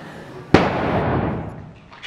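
A balloon popped with a needle during a children's party game, one sharp close pop that rings out and fades over about a second.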